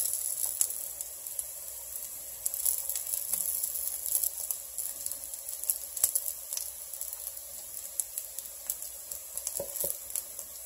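Spiced tofu sizzles steadily while frying in a pan, a continuous crackling hiss with scattered small pops, fairly close and alone without talk.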